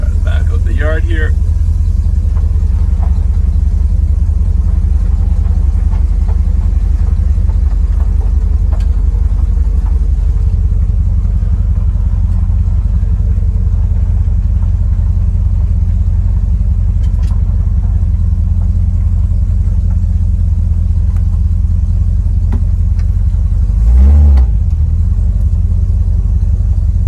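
Steady, loud low rumble of a car engine fitted with a Motorcraft 4300D carburetor, idling near 500 RPM while the car backs out of a yard, with a shift in tone partway and a brief clunk near the end.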